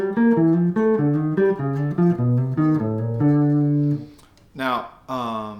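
On piano, a descending run of thirds with a half step leading into each pair moves steadily downward and settles on a held chord, followed by a brief burst of speech at the end.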